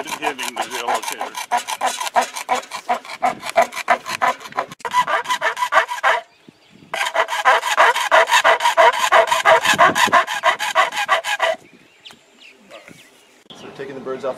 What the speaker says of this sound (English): Filing the lip, the groove, where the geolocator on the back of the bird will go in without it hitting the geolocator.